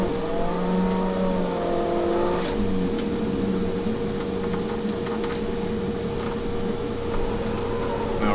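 A car engine in the racing game Assetto Corsa holds a loud, sustained high rev while drifting, with pitch shifts and rising tones over a constant mechanical drone and no talk.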